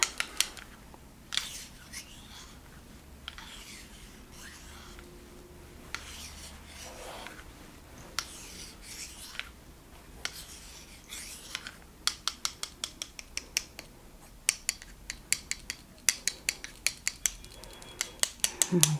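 Relaxing massage using bamboo and wooden tools, with soft rubbing and scraping against the body that builds into a quick series of close, crisp wooden clicks and rasps toward the end, quiet and without talk.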